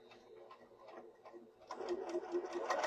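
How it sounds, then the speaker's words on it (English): A sewing machine stitches a buttonhole line with a back stitch, its needle running in quick, even ticking pulses that grow louder and denser partway through, close up with no talking. "I just sew to the line right here."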